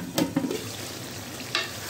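Chicken in masala fries over a medium flame, a soft steady sizzle broken by a few brief scraping stirs, heard close and without talk.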